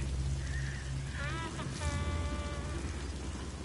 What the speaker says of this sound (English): God, man, it looks like real rain.